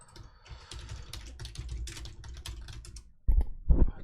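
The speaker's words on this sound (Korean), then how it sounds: "키보드 소리가 너무 크죠?" Rapid clicking of keys on a computer keyboard, close and fairly loud, followed by a couple of heavier thumps at the end.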